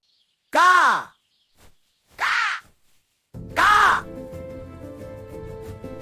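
A crow caws three times, each loud, rasping call separated by pauses, the last one followed by soft background music.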